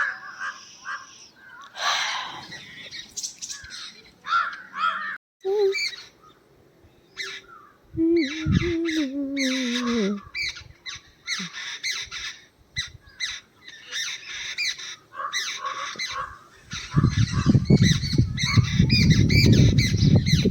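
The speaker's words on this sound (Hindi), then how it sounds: "कितनी अच्छी लग रही है चिड़िया वहाँ बैठी हुई है" Birds perched outdoors calling loudly and close: repeated harsh squawks and caws in irregular bursts, with a few hooting notes, then a steadier rough rustling noise toward the end.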